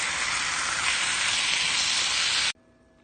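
Pork hits a hot pan and sizzles loudly in a steady, bright hiss that stops abruptly near the end, leaving near silence.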